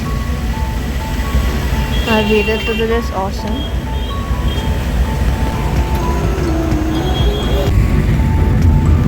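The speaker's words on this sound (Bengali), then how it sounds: "ট্রাফিক" Busy Delhi street traffic outside New Delhi railway station, a dense roar of engines and horns with tonal honks rising and falling, while a person talks over the din.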